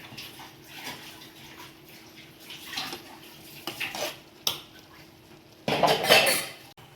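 A spoon stirs and scrapes a horse gram stir-fry in a metal pan, giving intermittent clinks and scraping strokes that end in a louder burst of rattling, close up with no talk.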